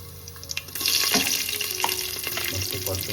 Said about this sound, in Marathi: कढीपत्तासुद्धा टाकून घेऊ आणि मिरची टाकू